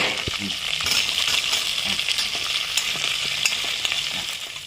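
Chopped shallots and green chillies with curry leaves fry in a pan, a steady loud sizzle close by with scraping stir strokes and light metallic clinks throughout.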